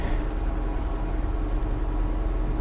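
A salvage auction car's engine runs at a steady idle, a close, continuous low rumble with no voices over it.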